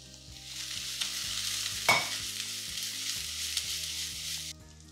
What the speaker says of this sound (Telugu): ఇప్పుడు దీన్ని హై ఫ్లేమ్లో కాసేపు సాటే చేసుకుందాం